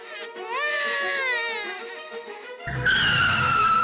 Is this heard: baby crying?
yes